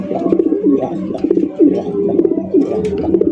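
Yellow Indian Mumbai pigeons coo close by in a loud, continuous run of throaty, rolling calls that rise and fall in rapid repeated phrases.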